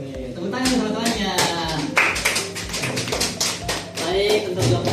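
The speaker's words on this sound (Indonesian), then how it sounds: "Tepuk tangan teman-temannya." Classmates in a classroom clap in a quick, fairly even burst of close claps lasting several seconds, with voices talking beneath them.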